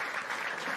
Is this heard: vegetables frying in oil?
no